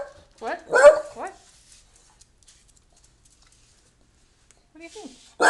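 Scooter the dog lets out a quick cluster of close, loud barks and yips, falls silent for several seconds, then barks sharply again at the end.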